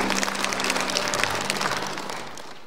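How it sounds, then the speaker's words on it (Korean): Audience applause welcomes a speaker at the opening ceremony of the 2022 Nogeun-ri International Peace Forum, a dense, steady patter of many hands that continues at even loudness for a few seconds. "박수로 환영해 주시기 바라겠습니다."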